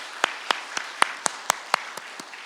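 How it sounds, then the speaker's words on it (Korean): Clapping from a church congregation during a Sunday worship service: about ten crisp, evenly spaced claps in a steady beat, fairly faint against a quiet room. "우리 주님께 감사와 영광의 박수 올려드리겠습니다."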